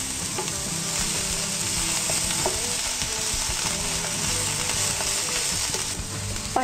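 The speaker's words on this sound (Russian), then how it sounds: "И продолжаем жарить." Chanterelle mushrooms with onion and garlic frying in oil in a pan, a steady close sizzle and crackle running the whole way with occasional light stirring clicks and no voices.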